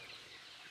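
A single short cluck from a chicken on a country native-chicken farm, brief and moderately close.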